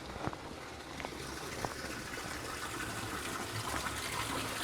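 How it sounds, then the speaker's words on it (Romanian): Water flows steadily from a fountain at an abandoned site in the Gargano or Abruzzo countryside of Italy in autumn, a continuous broadband gush with a few faint knocks and no talking. "O fântână."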